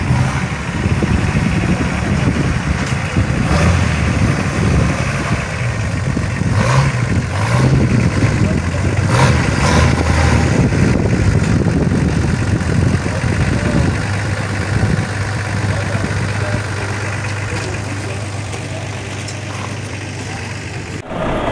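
A truck engine rumbles steadily at close range, its revs rising and falling in a steady drone before settling into a lower idle, with some talk faintly mixed in.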